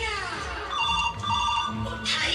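A telephone ringtone trills in repeated bursts of steady tones during a Hindi village comedy sketch, with a voice faintly audible beneath it.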